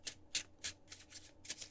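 A tarot card deck is shuffled by hand, making about seven soft, papery riffling bursts close by. The sound is quiet, with no voices.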